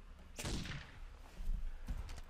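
Gunshots in the horror game Rake, a sharp loud shot followed by a couple of softer shots and thuds, with low background rumble.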